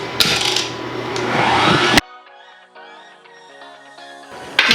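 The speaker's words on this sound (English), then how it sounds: "and then just let it whisk" An electric mixer whisks homemade whipping cream sweetened with sugar, giving a loud, dense whirring for about two seconds before cutting out, followed by quieter tonal background sound and a brief burst at the end.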